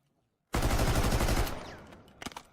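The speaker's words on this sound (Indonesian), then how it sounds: "Kemudian langsung membidik dan menembak." Automatic gunfire from aiming and shooting in the video game Delta Force: a loud, rapid one-second burst of shots that trails into an echoing tail, followed by a few faint clicks.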